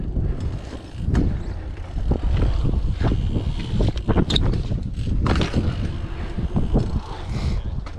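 Strong wind buffets the microphone at an outdoor skatepark, a loud continuous rushing roar broken by sharp gusts and clatters throughout.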